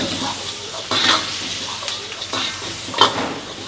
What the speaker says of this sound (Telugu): So ginger, garlic and fry చేస్తున్నారు.